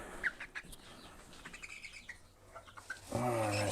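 A chicken being set back into a brooder gives faint, scattered chirps over low background noise, ending in a louder, sustained call.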